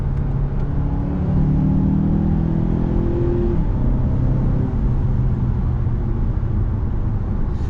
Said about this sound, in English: You hear the revs kind of rise a little bit, it kicks you down a gear